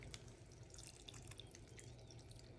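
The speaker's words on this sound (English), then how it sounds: "this is the juice or the liquor from the turkey that I'm gonna pour over into the cornbread" Turkey juice poured over cornbread for Thanksgiving dressing, a faint, steady trickle with scattered drips and splashes, quiet and continuous with no voices.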